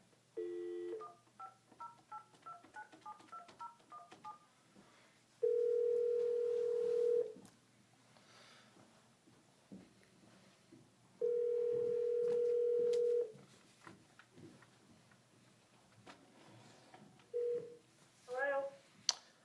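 A phone call placed to a for-sale-by-owner home seller: quick touch-tone dialing beeps, then long steady ringback tones separated by pauses, with a few faint clicks and a short burst of tones at the end.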